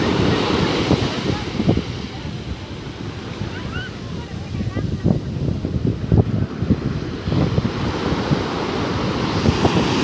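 Surf washes and crashes steadily nearby at Somnath while wind buffets the microphone, with a faint voice briefly audible under the roar.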